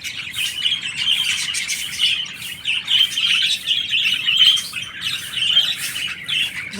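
A large flock of lovebirds in a big cage chirps and squawks continuously, a busy overlapping chatter of high tweets with no talk.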